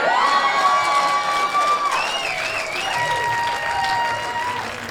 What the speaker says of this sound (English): Biggest cheer of the night.